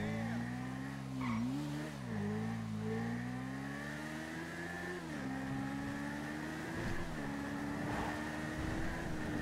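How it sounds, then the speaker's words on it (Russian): A GTA 5 jeep fitted with the Akuma motorcycle's engine sound, a steady buzzing drone that rises and falls in pitch as it revs, with tire-squeal-like tones over it, loud and continuous without talk. "я поставил звук этого мотоцикла на этот джип"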